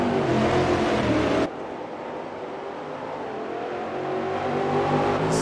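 Stock car engines roar in a Brazilian StockCar Series racing game at Velo Citta, a loud sustained drone of revving motors during a close battle between two cars. The engine note drops abruptly partway through, then continues at a steadier, lower level.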